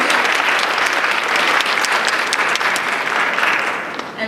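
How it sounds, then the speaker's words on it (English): A high school audience at a poetry recitation semifinal gives faculty members on stage a loud, dense round of applause that stays strong before easing off slightly at the end. "Let's give all of our faculty members a round of applause for getting on stage"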